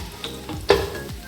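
Onions frying in a mix of oil and ghee for chicken biryani, a steady close sizzle broken by a few stirring scrapes and one sharper clatter midway, with no voices.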